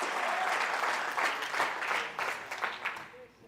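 Church congregation applauding during a Spanish-language sermon on the resurrection of the dead, a dense burst of clapping lasting a few seconds and slowly thinning toward the end.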